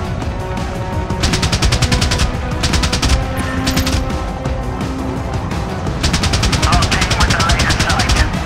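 Rapid machine-gun bursts in the helicopter combat video game Apache Air Assault rattle over a constant rotor and engine roar, firing in repeated long volleys, loud and dense throughout.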